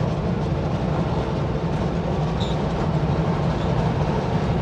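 A steady, heavy rumble of a train rolling past, continuous and fairly close, with no voices.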